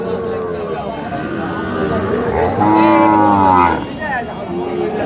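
A cow gives a long, loud moo over a crowded, chattering cattle market in Dinajpur selling Sahiwal bulls and calves, with people talking nearby throughout.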